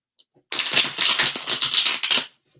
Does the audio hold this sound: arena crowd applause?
no